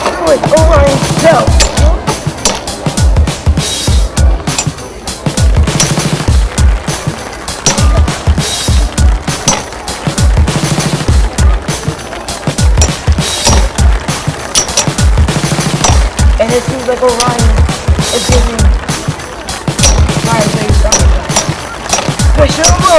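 Beyblade spinning tops, including a Phantom Orion BD, whir and clatter against each other in a battle arena. Loud, dense rattling and rapid clashing impacts continue throughout, with excited voices shouting over the action.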